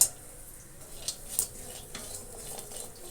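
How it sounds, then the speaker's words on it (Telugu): Cashews and raisins fry in a pan, giving a soft, steady sizzle close by, broken by light scraping and stirring clinks of a utensil against the pan. "చూడండి, కిస్మిస్ కూడా బాగా ఫ్రై అవుతున్నాయి."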